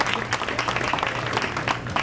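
Scattered audience clapping at a Lee County, Alabama District 3 candidates public forum, a short round of applause from a modest indoor crowd with uneven, crisp claps.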